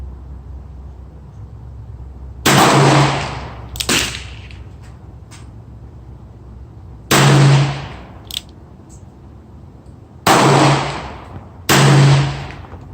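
Six shots from a S&W Model 19-5 .357 Magnum revolver at a 25-yard outdoor range: sharp, loud cracks arriving two at a time with pauses between, each one quickly cut short, and no talk.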